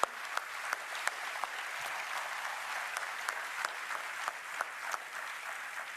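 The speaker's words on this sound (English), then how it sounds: "Please give our panelists a round of applause." An audience applauds the panelists at the Snowflake Summit 2024 opening keynote in Moscone, a steady moderate patter of many hands with sharper individual claps popping out, lasting throughout without speech.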